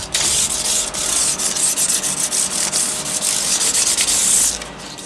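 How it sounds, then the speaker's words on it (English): Fine 1000-grit sandpaper rubs back and forth over the fret ends of a Telecaster guitar neck, a close, loud, continuous scratchy sanding with rhythmic strokes and no talking. "I'm just going to run a bit of 1000 grit over this now,"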